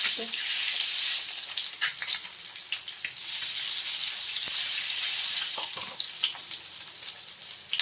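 Eggs frying in oil with a sprinkle of salt for a dhaba-style egg masala give a steady, close sizzle with scattered crackles and light pan clinks throughout.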